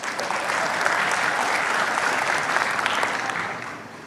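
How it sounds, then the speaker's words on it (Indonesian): A church congregation bursts into applause during a sermon, a loud, dense wash of clapping hands that holds steady for several seconds before tapering off. "Dia pasti tepuk tangan habis ini."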